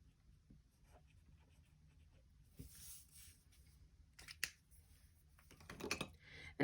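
Pen writing on a paper planner page, quiet scratchy strokes coming in short bursts with small taps and paper rustles, close and faint.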